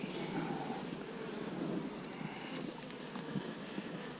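Honey bees buzzing around a nuc colony, a faint, continuous hum of many insects outdoors with light wind noise on the microphone.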